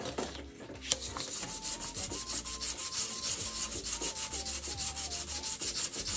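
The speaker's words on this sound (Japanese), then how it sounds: "紙やすりをかけたいと思います。" Steady rhythmic scraping of sandpaper rubbed back and forth over an acrylic surface, close and continuous, with a faint musical tone playing underneath.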